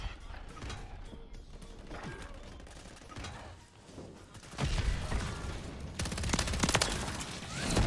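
Gunfire in Call of Duty: Modern Warfare 3 Search and Destroy, a burst of shots and clattering mechanical noise rising sharply midway over a busy game background, with a second loud burst near the end.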